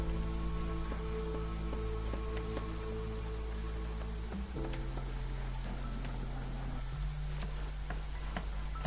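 Steady rain patters on surfaces in a video game, a dense even hiss with light ticking drops, heard alone under a low droning game tone.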